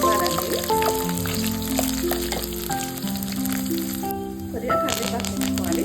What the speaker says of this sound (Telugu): ఇవి కొంచెం ఫ్రై అవ్వాలండి.